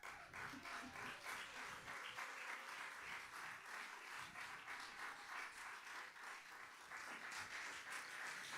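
Quiet, sustained applause from a live poetry performance audience, a dense even patter of many hands clapping that stays steady and somewhat distant throughout, with no speech over it.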